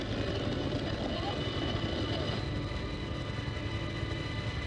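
A helicopter carrying a wounded soldier on a combat rescue flight gives a steady, loud rotor and engine drone heard from inside the cabin, continuous throughout.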